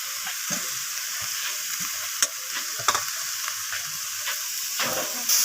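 Boiled soybeans fry in a spice masala while being stirred, giving a steady close sizzle with scattered scraping and clinking stir strokes throughout.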